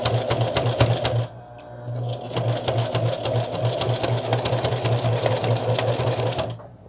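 A sewing machine stitches a seam on a zippered pouch, briefly pausing and then running forward and back in a backstitch, a close, steady mechanical whirr with no voices.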